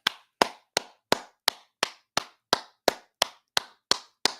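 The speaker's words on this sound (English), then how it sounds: "But I gotta clap it up." Hands clap alone in a slow, even rhythm, about a dozen crisp, close claps spaced roughly a third of a second apart with silence between each.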